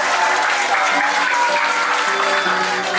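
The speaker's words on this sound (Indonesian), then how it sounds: "Tepuk tangan dari atas." A group at a villa camp in Bekasi claps in a dense, loud burst that holds steady throughout, with faint voices mixed underneath.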